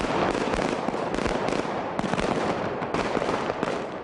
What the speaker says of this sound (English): the big gun shootout that you hear in the movie is all production sound